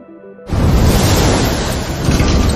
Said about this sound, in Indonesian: sebuah badai juga tiba-tiba muncul dan menghantam kapal mereka yang membuat seluruh kapal mengalami kerusakan